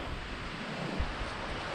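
Strong wind roars steadily on the summit of Monte Arsenti, buffeting and rumbling against the microphone with no other sounds.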